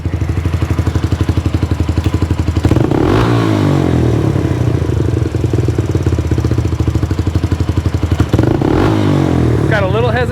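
A Yamaha Raptor 125 ATV engine with a high idle and a bogging fault revs loudly and steadily up close, its pitch rising and falling through a couple of throttle blips, with faint talk in the background.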